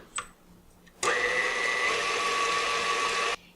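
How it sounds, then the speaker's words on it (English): An electric mixer running at medium speed through egg and vanilla, switching on abruptly and whirring as a steady, loud motor drone with a constant pitch for about two seconds before cutting off. A faint clink comes just before it starts. "we're going to mix this on medium speed for just a minute or two"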